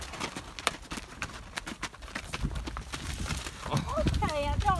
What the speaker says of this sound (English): Mommy got the horses following her.